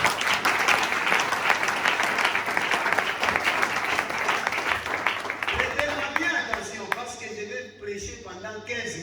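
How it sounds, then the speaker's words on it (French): Congregation at a Kaïros Ministries church service applauding and cheering Jesus, with loud sustained clapping that thins out near the end, where singing or music comes through. "Acclamons Jésus"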